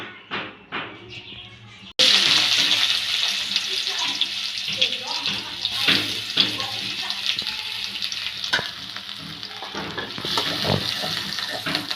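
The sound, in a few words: oil sizzling in a hot wok (karai)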